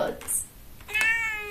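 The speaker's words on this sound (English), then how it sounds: "She's a very nice kitty." A pet cat gives a couple of short, high meows close by, mixed in with a person talking to it.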